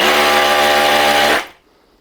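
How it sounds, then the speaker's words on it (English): A Bosch GBH 187-LI cordless hammer drill runs at a steady, loud, close-up whine, then cuts out abruptly as the bit locks, leaving near silence. "So this one will stop if the drilling bit gets blocked. I will try to simulate it now."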